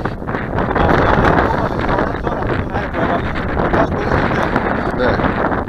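Strong wind on a mountainside where model gliders are flown buffets the microphone in a loud, continuous roar with gusty swells throughout and no clear speech.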